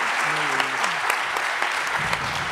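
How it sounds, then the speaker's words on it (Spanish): Dense, enthusiastic applause from an audience at the end of a book talk fills the room, with a voice speaking briefly underneath the clapping. "este fuertísimo aplauso con el que acaba esta charla"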